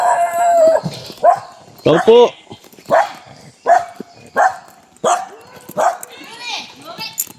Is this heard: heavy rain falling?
no